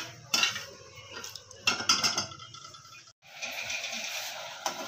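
A spoon stirs sugar syrup for jalebi in a metal pot, with clinks and scrapes in bursts and a brief pause, close and moderately loud with no talk.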